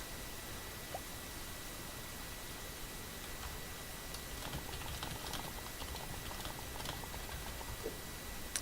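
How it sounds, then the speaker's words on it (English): Rain in the video game Boundless patters as a dense, even hiss with faint scattered ticks, steady and low in level throughout, with no voices. "It's raining."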